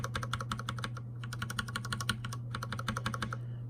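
Ducky One 2 Mini with an aluminium case, mechanical key presses typed in quick bursts, crisp clicky strokes close up with a short pause near the one-second mark and over a low steady hum.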